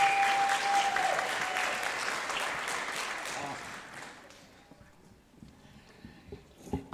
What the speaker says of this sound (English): Let's have one more round of applause for these young musicians.